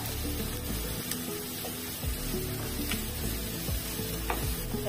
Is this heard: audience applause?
no